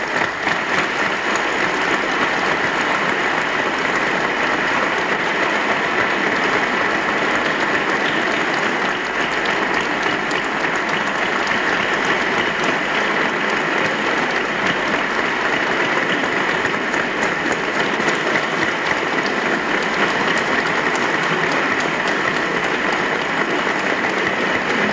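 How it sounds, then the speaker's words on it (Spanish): Sustained, dense audience applause greets a band conductor at a processional band performance in Herrera, Seville, filling the full stretch at steady loudness with no talk over it. "Recibámoslo, porque está hoy aquí con todos nosotros, con el fuerte aplauso que se merece, don Pedro Morales"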